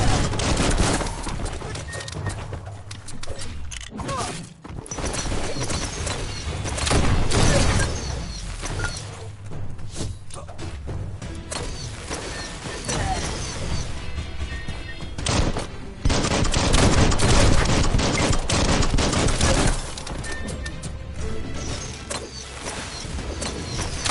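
Dense, sustained gunfire from the video game Biomutant, volleys of shots crackling loudly and almost without pause, with brief lulls and renewed bursts.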